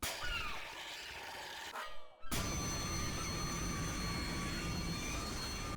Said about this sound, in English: What is that grind sound?